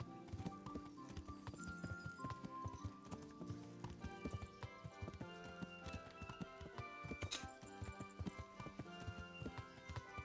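Horse hooves clip-clop steadily through the Kingdom Come: Deliverance game world, a close, even rhythm over a busy bed of music and ambience, with a brief whinny possible amid the steps.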